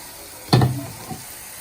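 Taro stolons dropped into a hot wok with dried shrimp: one sudden loud sizzle burst that quickly fades into a softer frying hiss, with a small clatter shortly after.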